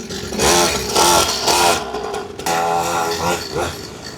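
A stock 49cc two-stroke mini pocket bike engine is started and revved in loud, close bursts: three quick throttle blips, a brief dip, then a longer rising rev, with speech partly over it.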